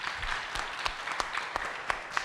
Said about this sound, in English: Let's give a round of applause to everyone that has helped just putting everything together,